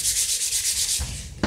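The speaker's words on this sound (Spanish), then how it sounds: "Ahora vamos a pulirle un poco más con una de grano más fino" Fine 400-grit sandpaper rubbing over a wooden picture frame in steady, close back-and-forth strokes, loud and continuous, with a slight pause near the end before another stroke.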